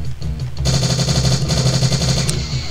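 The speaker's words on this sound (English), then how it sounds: "Who dies in a hail of gunfire?" Rapid automatic gunfire in the first-person shooter game Strife, a dense loud burst of repeating shots sustained for about two seconds after a brief quieter lead-in.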